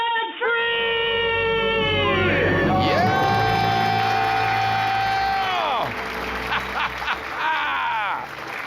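A crowd lets out a loud, sustained celebratory scream and cheering after a debt-free countdown, with whoops and shouting voices rising and falling over about eight seconds.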